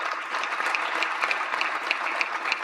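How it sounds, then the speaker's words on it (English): Audience applause at the opening ceremony of the World Public Summit Africa: a steady, even patter of many hands clapping, moderately loud and continuous throughout, with no voices over it. "Please give a warm round of applause to all our guests and speakers."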